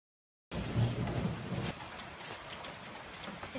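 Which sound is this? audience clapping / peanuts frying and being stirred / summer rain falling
summer rain falling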